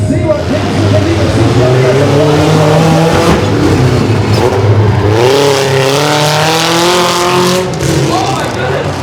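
Mini monster truck engine at full throttle during a live show in Frederick, Maryland, roaring steadily with rising and falling revs as it runs between jumps, while an announcer talks over it.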